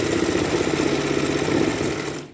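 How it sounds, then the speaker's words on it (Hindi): A sewing machine running steadily as it stitches a fabric seam on the reverse side of a pajama: a continuous rapid mechanical whir and clatter at close range that cuts off at the end, with no voices. "ये हम कपड़े के उल्टी तरफ सिलाई लगा रहे अर्ज में, और इस तरह से मिलाना कपड़े को और सिलाई लगा देंगे।"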